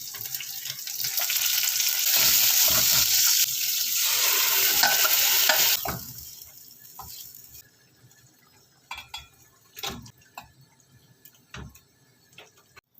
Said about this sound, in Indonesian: Tumis bawangnya.